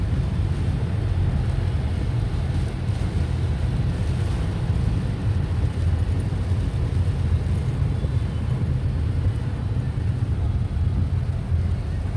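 Strong typhoon wind buffets the microphone in a constant low roar, steady throughout with no voices standing out.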